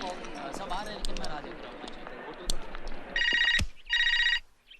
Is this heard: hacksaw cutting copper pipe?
no